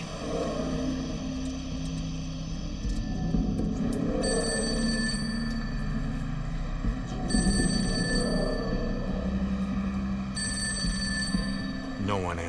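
A telephone rings in repeated bursts over a low, rumbling background hum, the trilling ring coming back several times at a moderate distance.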